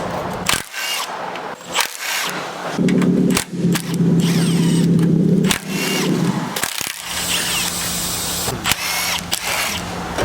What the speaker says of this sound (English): I'm just going to be removing the oil pan.